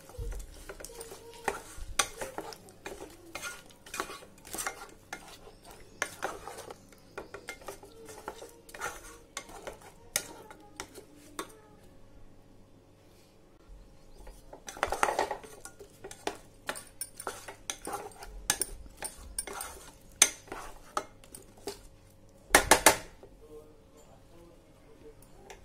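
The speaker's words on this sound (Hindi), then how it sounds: "पाँच छह मिनट हो गए हैं इसे तेल में और मसालों के साथ भूनते हुए।" Chicken with yogurt and spices fries in oil in a pot for pulao, a spoon scraping and clinking against the metal in irregular bursts over a faint, low sizzle.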